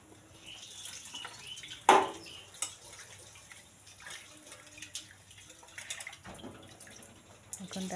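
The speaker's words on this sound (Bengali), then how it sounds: "এখন ডালটা ধুয়ে নিচ্ছি আমি।" Lentils being washed in a kitchen under running water, a fairly quiet, steady trickle and splash with a brief louder splash near the start.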